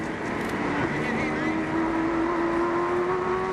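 Touring race cars at the 1993 Sandown 500 circuit race drone past with a sustained engine whine, heard at a distance beneath a talking voice.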